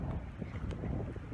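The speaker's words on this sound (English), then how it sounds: "it's so freaking windy." Strong outdoor wind buffets the microphone in a steady, loud low rumble that fills the whole moment, with no talking over it.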